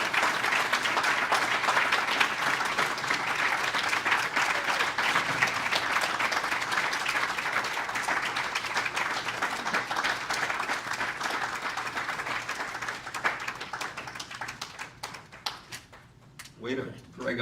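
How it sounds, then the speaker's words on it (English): Audience applause for a 2024 Appleton West Hall of Fame inductee, sustained and dense for most of the stretch before tapering off near the end, where a voice begins. "Way to drag out the applause"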